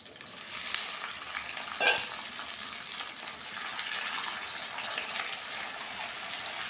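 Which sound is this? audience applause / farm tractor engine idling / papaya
papaya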